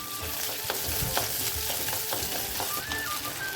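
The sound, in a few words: small onions and garlic sautéing in a pan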